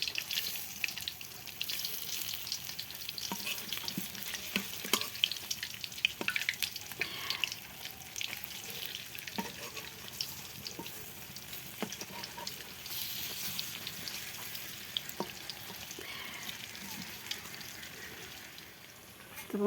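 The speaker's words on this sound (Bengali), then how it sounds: "আমার বড়া হয়ে গেছে বড়া। লাল লাল করে ভেজে নিলাম" Pumpkin leaf fritters fry in oil over low heat, giving a soft, steady sizzle with faint crackles and occasional small clicks and knocks from cookware, fairly quiet and with no talking.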